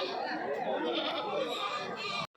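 Goats bleat at a busy sheep and goat market in Kadiri, their calls mixed into steady crowd chatter and nearby talking voices.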